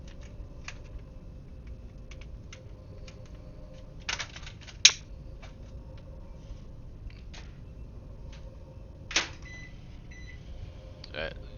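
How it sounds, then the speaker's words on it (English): A household microwave oven runs with a low, steady hum, broken by a few sharp beeps and clicks and light tapping, like keys, scattered throughout. "You probably heard my microwave."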